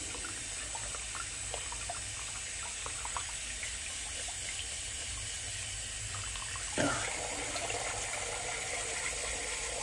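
A shaving brush rinsed under a running tap in a sink: a continuous, steady hiss of flowing water, with one brief louder splash partway through.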